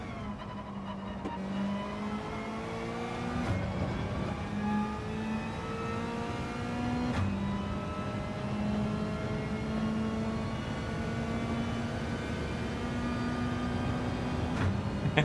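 Mazda race car in Gran Turismo 7 revving hard, its engine note climbing repeatedly through the gears with short shift breaks, a steady loud whine alone throughout.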